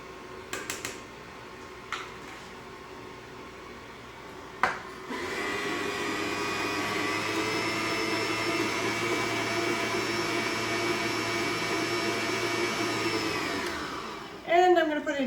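An electric mixer mixing chocolate chip cookie dough, a steady close whirring drone that runs for about ten seconds after a few knocks and clicks, then stops with a short clatter.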